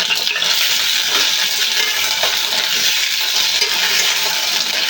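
Eggplants fry in hot oil that sizzles and spatters loudly and steadily, a dense crackling hiss that carries on without a break.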